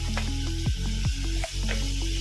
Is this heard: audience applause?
no